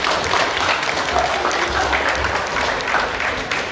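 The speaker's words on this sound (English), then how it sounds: "Once again, big round of applause." Sustained, dense applause from a large indoor audience greets the 2019-2020 regional champion at the FIRST LEGO League Coventry regional event, steady and fairly loud throughout with no voices rising above it.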